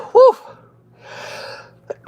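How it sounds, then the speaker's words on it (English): A single close, loud sneeze, sharp and voiced, followed by a breathy exhale and a short sniff in a quiet room. "I got to sneeze again."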